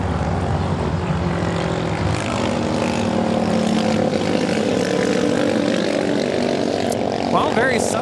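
An Aeromexico airliner arriving from Mexico City at LAX roars loudly and steadily nearby, its engine drone sustained throughout, with a voice talking faintly underneath.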